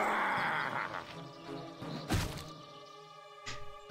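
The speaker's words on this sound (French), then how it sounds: "belle explosion" Explosion in the Baldur's Gate video game: a sharp, heavy boom bursts out midway through the game's layered sound effects and music, then fades quickly.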